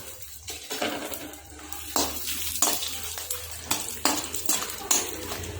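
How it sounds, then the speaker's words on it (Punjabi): Walnuts and almonds being dry-roasted in a pan for panjiri, heard as a series of scraping stirs and clinks of a spatula against metal with faint sizzling, repeated at a steady pace. "ਹੁਣ ਆਪਾਂ ਇਹਦੇ ਵਿੱਚ ਅਖਰੋਟ ਭੁੰਨ ਲਵਾਂਗੇ ਥੋੜੇ ਜਿਹਾ ਥੋੜੇ ਜਿਹਾ ਆਪਾਂ ਬਦਾਮ ਭੁੰਨ ਲਵਾਂਗੇ"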